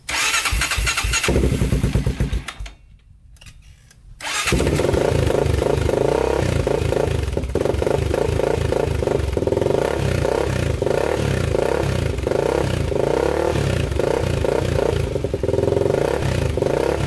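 A Honda 400ex ATV engine cranks and catches, stumbles and goes quiet for a moment, then fires up loud and close into a steady, throbbing idle.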